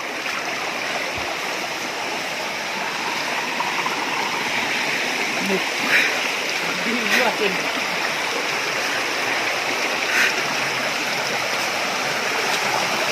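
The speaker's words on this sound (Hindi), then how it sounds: "ओ भाई साहब झरणा पानी" Water from a stream and waterfall near a cave pours in a steady, full rush that runs unbroken throughout, close and loud, with faint voices now and then beneath it.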